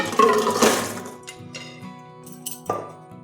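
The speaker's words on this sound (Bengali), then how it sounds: "এটা জল ছেঁকে নেব" Water poured off pressure-cooked chickpeas through a strainer, a loud splashing gush at the start that tapers into trickles and light metallic clinks of pot and utensils.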